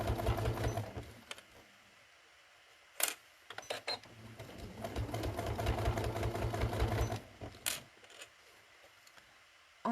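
A sewing machine binds a folded star trivet in two runs of rapid rhythmic stitching with mechanical clicks. The runs are separated by short pauses and clacks. It sounds close and moderately quiet, with no talk.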